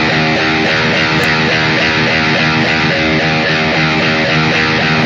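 A distorted electric guitar repeatedly picks a single string without palm muting, so each note rings open and sustained in an even, steady rhythm, loud and alone.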